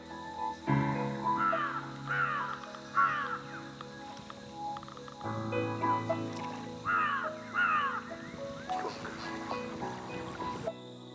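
Crows caw in bursts of harsh repeated calls in the forest of Chitwan National Park, Nepal, heard from a boat with steady engine or water drone underneath throughout.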